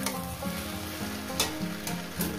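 Rohu fish head with okra, potato and tomato sizzles steadily in a pan on low heat without water, with soft stirring scrapes repeating every half second or so.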